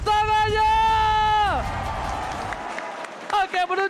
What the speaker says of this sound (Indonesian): FPL Arena minta tepuk tangannya!